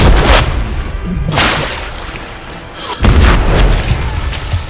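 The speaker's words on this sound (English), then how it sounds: "only hear an explosion." Heavy explosions in the war game Ad Infinitum: three loud, close booms spaced about a second and a half apart, each with a rushing blast and a rumbling decay.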